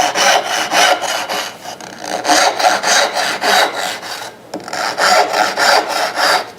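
Hand saw making stop cuts in a wooden board, a close rhythmic rasp of quick back-and-forth strokes in steady runs, with brief pauses between cuts.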